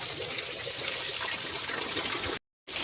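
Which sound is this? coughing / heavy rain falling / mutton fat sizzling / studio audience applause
heavy rain falling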